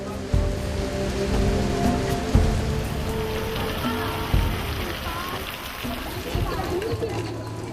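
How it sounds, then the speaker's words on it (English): Heavy afternoon rain pours down steadily, a dense wash of drops drumming on surfaces with a few louder splashes, while a voice talks over it. "The bright afternoon suddenly turned cloudy and the rain is pouring."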